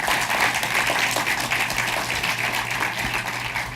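Applause breaks out from a conference audience at a Go programming talk, a fairly steady wash of clapping at moderate volume, with no voices over it.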